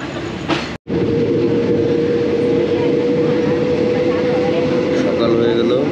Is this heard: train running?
yes